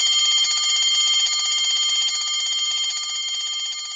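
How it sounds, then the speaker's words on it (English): An electric bell ringing inside a glass bell jar, a continuous rapid metallic rattle, loud and steady with no other sounds. "On pressing the switch, you will be able to hear the bell ringing."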